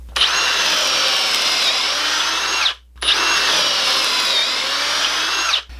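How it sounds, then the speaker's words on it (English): A power drill bores pocket holes into the ends of a 2x4 board in two sustained whining bursts, loud and close, with a brief pause between them. "we want to put some pocket holes on both ends"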